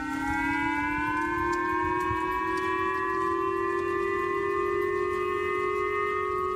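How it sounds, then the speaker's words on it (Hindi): A loud missile-alert siren in Japan wails steadily, its tone slowly rising, heard from a distance over a constant background rumble with no voices. "और किम के बैलिस्टिक मिसाइल दागते ही जापान में खतरे का सायरन बज उठा।"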